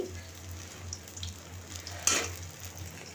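Fenugreek leaf fritters (methi bora) frying in a small amount of oil in a home kitchen, a soft steady sizzle with one brief louder crackle partway through, close by and without speech.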